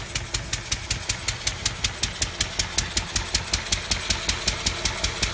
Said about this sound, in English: Engine's running well today.